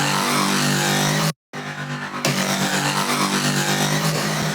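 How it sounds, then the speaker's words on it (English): A dense, brassy horn sample plays loudly and continuously, broken by one brief silent gap before resuming with a fuller sound. "another very important element is the horns, and the horns sound like this"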